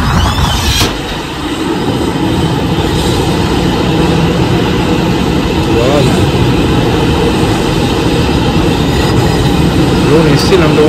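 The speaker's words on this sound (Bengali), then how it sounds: "এবার টানেলে ঢুকবে ট্রেনটা।" A Kolkata Airport metro train on a pre-trial run toward the airport, heading into a tunnel: a steady, loud rumble and rush of the carriage that fills the whole stretch, with a voice speaking over it.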